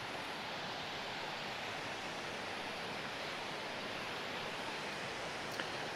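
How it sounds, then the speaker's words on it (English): Long Creek Falls on the Appalachian Trail pours as a steady, even wash of falling water, faint and distant, with no voices over it. "And there is Long Creek Falls."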